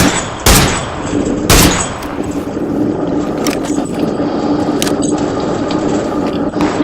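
Rifle fire in the battle-royale game PUBG with a 3x scope: two loud, sharp shots about a second apart, then a steady busy game ambience with faint clicks and distant pops.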